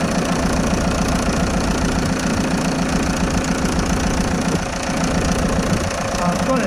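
A Fordson Major tractor diesel engine runs after a cold start, a loud, close, rough knocking chug that stays steady throughout with a slight dip near the end.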